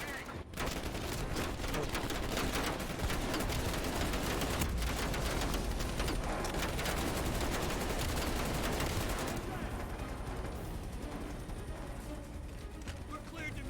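Sustained, dense automatic gunfire in the video game Call of Duty Black Ops Cold War, a long continuous fusillade of rapid shots that eases slightly near the end.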